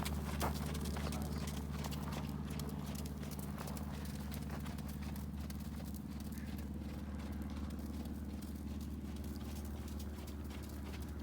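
A horse's hooves clip-clop in a steady, quick rhythm while it is ridden on a 20-meter circle, fairly faint over a constant low hum of background noise.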